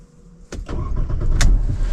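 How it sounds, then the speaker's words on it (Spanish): A Mercedes SLK 200 roadster's engine cranks and fires after a quiet moment, then settles into a steady, close idle with a brief sharp click partway through. "fijaos que vamos a arrancar el coche."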